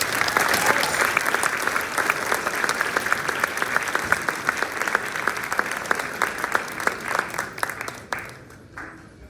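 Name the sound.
audience applause for the choir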